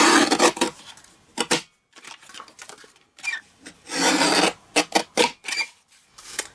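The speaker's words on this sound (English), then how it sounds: "Bring in the little mini guillotine" A small mini paper guillotine trims card for a handmade Easter card, giving several short rasping slices and rubbing strokes in bursts, close up, with quiet gaps between and no talking.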